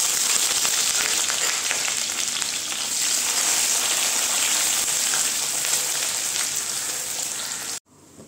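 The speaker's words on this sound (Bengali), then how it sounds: "আমি এর মধ্যে দিয়ে দিচ্ছি এই যে কেটে রাখা পেঁয়াজগুলো।" Chopped onions fry in hot oil for Bengali chicken korma, giving a loud, dense, continuous sizzle close by that cuts off abruptly near the end, with no talking.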